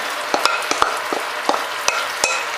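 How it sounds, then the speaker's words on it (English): Beef stir fry with marinade, broccoli, snow peas and scallions is stirred in a hot pan, with quick scraping strokes and light clinks of a utensil landing every fraction of a second over a constant close sizzle. "Stir it all through."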